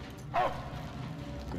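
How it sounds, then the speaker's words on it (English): A dog in the Mad Max video game gives one short, close bark over a low rumbling game background. "Good dog."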